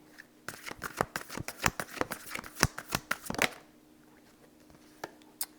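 Oracle cards being shuffled by hand, a close series of crisp riffling slaps and flutters for about three seconds, then quiet with a couple of soft card taps.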